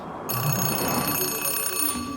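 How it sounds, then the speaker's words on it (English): An alarm suddenly starts ringing, a bright continuous electronic bell tone that sounds loud and near, holding steady to the end. "My alarm went off."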